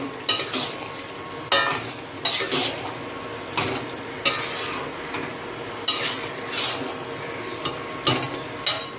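Boiled potatoes and peas being stirred into chicken ghugni in a pan, with regular scraping spoon strokes about once a second over a soft, continuous sizzle, close by.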